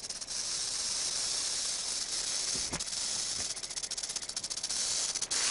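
Diamondback rattlesnake in the desert facing a red-tailed hawk, giving a loud, steady hiss that runs through the whole stretch, with a few faint rattling pulses near the end.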